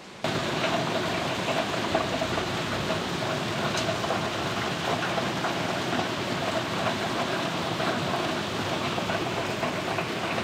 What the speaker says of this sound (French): Il grêle.